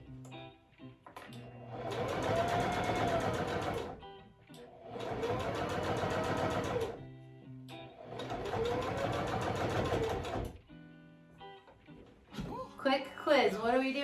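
A sewing machine stitches around a fabric face mask in three steady buzzing runs of about two to three seconds each, separated by brief pauses, with a voice speaking near the end.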